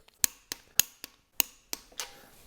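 Torque wrench tightening head bolts on a Small Block 350 engine build, a series of sharp, close clicks spaced about a quarter second apart, ending with a slightly longer ratcheting rasp.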